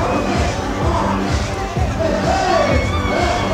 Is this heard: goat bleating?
no